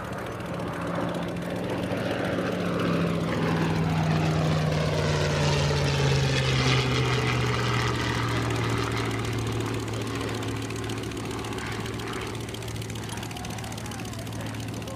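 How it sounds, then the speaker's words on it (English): P-40C Tomahawk propeller fighter flying past, a loud sustained engine drone with a pitch that falls as it passes, continuous for the whole stretch, with people talking faintly underneath. "Grantley and the P-40 Tomahawk."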